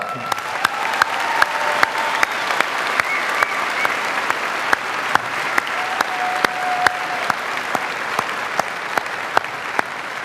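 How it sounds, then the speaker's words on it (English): A university winter commencement crowd breaks into steady applause that holds for the full stretch, broad and even with scattered sharper claps standing out. "Now you can applaud."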